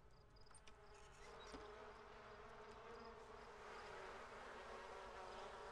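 Bees buzz around a hive during honey collection in the Sims 4 video game, a quiet, continuous drone with faint game sounds behind it and no speech.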